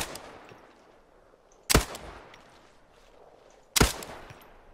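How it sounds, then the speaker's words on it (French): Two sharp, loud rifle shots from an SVD sniper rifle in the military shooter game Arma 3, spaced about two seconds apart, each with a short echoing tail over a low background hiss. "il tire lui avec son SVD"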